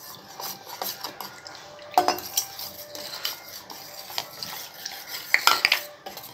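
A spoon stirs falooda mix and water in a cup, making close, irregular clinks and scrapes against the sides, with a few sharper metallic taps near the end and no one speaking.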